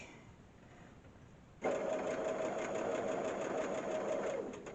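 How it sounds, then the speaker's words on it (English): A sewing machine starts up and runs steadily, stitching bias binding onto a garment neckline, a close, continuous mechanical hum with a rapid needle rhythm that eases off near the end. "because you want to sew just before that first line, and just do 1 inch or so, turn it slightly"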